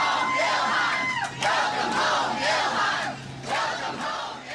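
Crowd in Minnesota cheering and shouting for Congresswoman Ilhan Omar, a loud sustained roar of many voices with whoops and swells rising and falling throughout.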